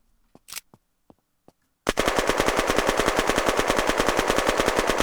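Automatic gunfire in the video game Unturned: a few faint isolated clicks, then a loud, sustained rapid burst of shots firing in a steady rhythm to the end.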